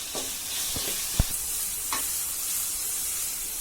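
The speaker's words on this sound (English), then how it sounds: "I am mixing it nicely. Let it fry for at least for a minute." Ground cumin powder frying in a pan for a chicken vindaloo, giving a soft steady sizzle with a few sharp clinks and scrapes of stirring; no voices.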